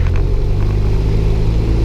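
Light aircraft piston engine held at 2000 RPM during a pre-flight run-up with the parking brake set, producing a loud, steady droning rumble that continues unbroken throughout.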